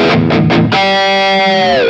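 Squier Contemporary Active Stratocaster HH electric guitar with Floyd Rose tremolo through heavy distortion: three quick chugged notes, then a loud sustained chord ringing out and bending down with a tremolo-bar dip at the end.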